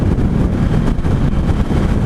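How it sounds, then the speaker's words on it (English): A 2016 Indian Scout motorcycle at highway speed, around 75, with a steady, loud, broadband wind roar buffeting the microphone and low rumble underneath. There is no talking. "So the wind is pretty substantial at a highway speed"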